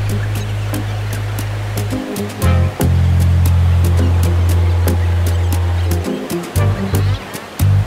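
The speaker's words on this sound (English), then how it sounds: "Niagara Falls, New York is a set of three waterfalls" Niagara Falls in New York, heard from a viewpoint: a steady, heavy low roar of falling water runs throughout, loud and continuous, broken by brief dips and sharp clicks.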